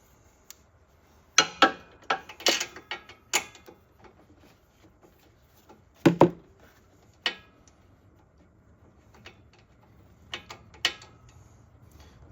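A ratchet wrench working on the spark plug of a Husqvarna zero-turn lawnmower engine, giving bursts of quick metallic clicking in short clusters separated by pauses, close and clear.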